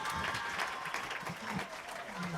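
Clapping from an audience at a school donation event in Sierra Leone, steady and moderately loud, with voices and crowd noise mixed in beneath it.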